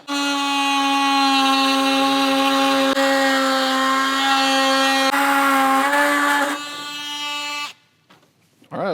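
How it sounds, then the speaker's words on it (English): A multi-tool with a strong harmonic whine cuts steadily through a bumper piece on a 2022+ Toyota Tundra during an Ironman 4x4 front bumper install, running loud for several seconds, dipping, then stopping abruptly. "So I'm gonna use my multi-tool. I'm gonna cut right through there, do both sides."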